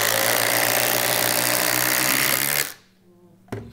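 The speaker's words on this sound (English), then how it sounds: "Our first test will be driving these quarter inch by 6 inch lag fasteners." Milwaukee M18 FUEL impact drivers drive 1/4 by 6 inch lag fasteners, a loud, continuous rapid hammering rattle that stops abruptly near the end and is followed by a brief knock.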